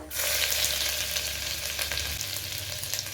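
Vegetables and ginger frying in hot oil for a restaurant-style veg pulao, a loud, steady sizzle that starts abruptly and continues close up with no voices, a low rumble dropping away partway through.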